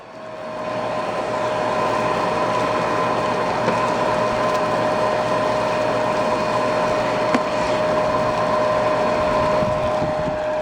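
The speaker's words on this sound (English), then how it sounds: "let's see if there's suction at the hose" A Dirt Devil Power Reach vacuum, a curbside find, runs steadily with a loud, close motor drone and whine, checked for suction at the hose, continuous with faint clicks and no talking.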